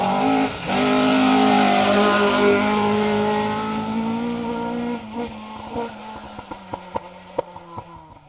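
An orange Ford Escort rally car at a competitive stage of the Phil Price Memorial Woodpecker Rally roars past close by at full throttle. The engine note then drops away, leaving sharp pops and backfires as it fades off.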